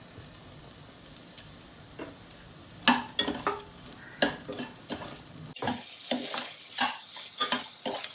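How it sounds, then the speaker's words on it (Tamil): Salted broccoli cooking in butter in a pan, a close crackling sizzle punctuated by spoon scrapes and light clinks against the metal as it is stirred. "வெண்ணெயிலே வேகட்டும் ஒரு 5 நிமிஷம்."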